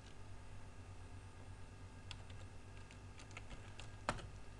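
Computer keyboard keys tapped in a quick, uneven run of light clicks, close and clear, with one sharper keystroke near the end and no voices.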